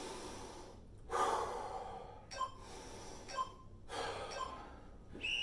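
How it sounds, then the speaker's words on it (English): During a rest in a family fitness workout, a person takes several deep, audible breaths, each inhale and exhale separated by short pauses, close and clear with no talking. "Deep breaths."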